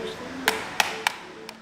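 Four sharp metallic taps on a faulty sardine tin at a Portuguese cannery, spaced unevenly, each with a bright ringing ping, close up over faint background hum.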